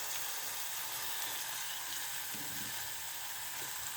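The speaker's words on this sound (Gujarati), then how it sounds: "હવે આ શાક ધોયેલું નાખી દઈશું" Washed vegetables hit a hot pan and set off a dense, even hiss of sizzling that holds steady throughout, close and unbroken, with no voices.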